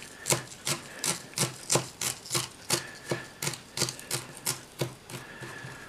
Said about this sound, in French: vais commencer par hacher l'aneth assez fin.